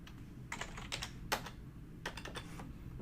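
Quiet keystrokes on a computer keyboard as a Linux terminal command is typed, a few irregular clusters of clicks and a sharper tap, close and alone.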